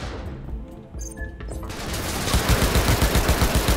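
Rapid automatic gunfire in Cyberpunk 2077 rattles in a fast, even string of loud shots, starting after a quieter stretch of game ambience and continuing to the end.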